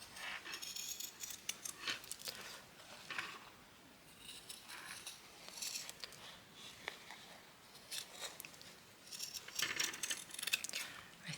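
Large scissors snipping through scrap fabric, a run of quiet crisp cuts and rustles, fairly close and low in level, with no one speaking.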